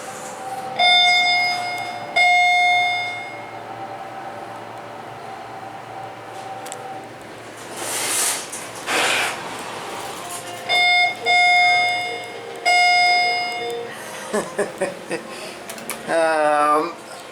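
Chimes of an Abell hydraulic elevator at a Menards store in Marinette, Wisconsin, glitchy-sounding, ringing as repeated clear tones in a few clusters, with a hiss of door or car noise midway and a person talking at times.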